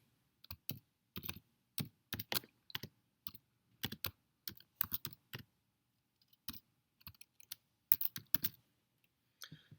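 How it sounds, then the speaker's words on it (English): Typing on a computer keyboard while laying out a magazine cover in InDesign: clusters of close, crisp key clicks in bursts with short pauses, no voices. "I'm going to create a text box, and then I'm going to type some text."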